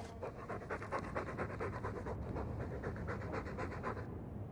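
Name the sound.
dog panting, from video game Dragon Age II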